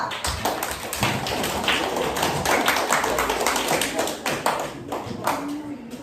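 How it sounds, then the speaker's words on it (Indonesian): A classroom of students claps for a student group, brisk and uneven hand claps at close range that hold steady for several seconds, with no speech on top. "Saya kasih tepuk tangan untuk kelompok 2."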